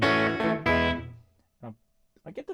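Rockabilly electric guitar played through an EP3 tape echo boost, a few loud twangy chords ringing out and decaying, then short picked notes with echo repeats, close and alone.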